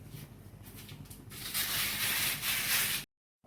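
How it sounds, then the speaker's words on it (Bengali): A spoon stirs moong dal, water and spices in a pot with soft, continuous scraping that grows louder and busier halfway through, then stops abruptly. "এবার হালকা নেড়ে চেড়ে নেব, মিশিয়ে নেব ডালের সাথে মশলাটা।"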